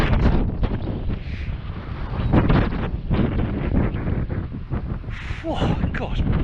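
Strong gusty wind buffets the microphone on an exposed stretch of the Bristol Channel coast at Lilstock, a loud, continuous roar rising and falling in surges throughout, with no clear speech over it.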